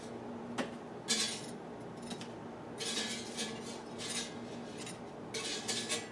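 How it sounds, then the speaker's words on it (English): Metal tongs clink and scrape against an air fryer basket while lifting out crispy hash browns, giving a few sharp, bright taps and rustles spread across several seconds at a close, moderate level. "So I'm going to use tongs to get these hash browns out"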